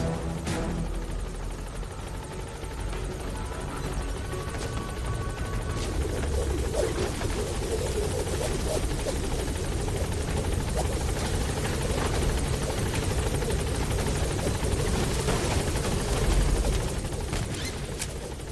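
The Pequod helicopter in Metal Gear Solid V thrums with a steady, continuous rotor beat, joined by scattered bursts of gunfire throughout.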